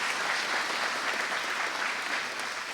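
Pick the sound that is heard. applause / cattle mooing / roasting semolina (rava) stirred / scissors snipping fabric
applause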